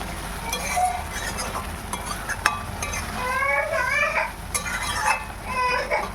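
Chicken curry being stirred and browned in a pan with ground green and red chillies, a utensil scraping and clinking against the metal under low sizzling, with brief faint speech and household background noise.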